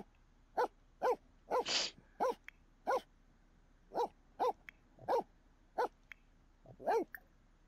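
A dog in The Sims 4 barks in short, separate yips at an irregular pace, about a dozen in all, clear and fairly close against a quiet background.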